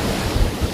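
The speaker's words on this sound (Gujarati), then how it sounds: "જુઓ પાણી ચાલુ હ બમ બમાટ" Water rushes and churns at a lake in a short burst, a loud, close wash mixed with heavy wind buffeting against the microphone.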